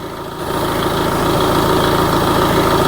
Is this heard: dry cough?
no